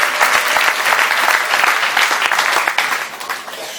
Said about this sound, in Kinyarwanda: Mu mpera Imana amashyi